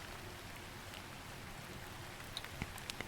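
Gentle rain falls in a steady soft patter, with a few light drips and clicks near the end, quiet and continuous with no talk.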